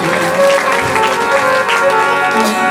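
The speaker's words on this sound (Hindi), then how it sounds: "तालियां बजाकर अभिवादन करें हमारे अतिथियों का।" An audience claps to welcome journalist guests onto a stage at a gathering in Vidisha, a loud, steady wash of applause that continues throughout with voices and sound from the stage mixed in.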